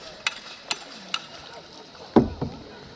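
A small boat rocking on water during island hopping among lagoons in El Nido, Palawan, with light splashes and knocks against the hull over a low rumble, a few sharp taps and one louder thud near the end.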